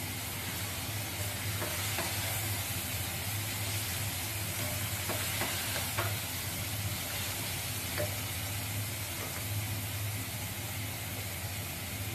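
Carrot halwa stirred and roasted in ghee in a pan, a steady soft sizzle with scraping stir strokes throughout, close and continuous with no talking.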